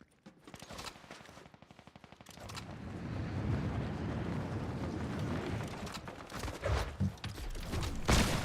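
A hunting rifle fires in a video game, with sharp shots early on followed by a rising rumble of gunfire and blasts that swell and stay loud, ending with another burst.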